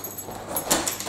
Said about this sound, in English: Siphoning back into the testing tank, unlock the door